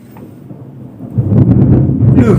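Thunder rumbling during a rainstorm, a low continuous roll that swells louder partway through with some rain noise mixed in.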